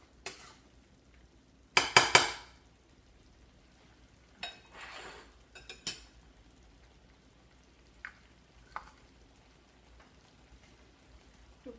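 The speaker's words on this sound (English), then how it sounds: "put the stove on a low heat and let it cook properly." Pav bhaji cooking in a pan on low heat on the stove, with a spatula scraping and clinking against the pan in a few sharp bursts over a quiet, faintly sizzling background, with no voices.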